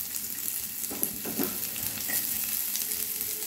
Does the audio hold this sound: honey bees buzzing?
no